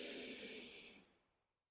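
One long, close inhale during a yoga exercise, an airy hiss of breath that holds steady for about a second and then fades away to quiet.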